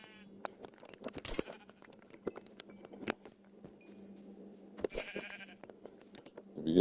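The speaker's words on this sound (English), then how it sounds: "here's a couple of sheep" Several Minecraft sheep give short, intermittent bleats at close range, scattered across soft in-game background noise with a few clicks.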